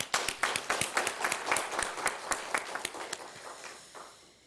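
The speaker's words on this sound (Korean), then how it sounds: "박수 한번 치겠습니다" A church congregation applauds during a devotional service, a burst of close, crisp hand claps that thins out and fades over a few seconds.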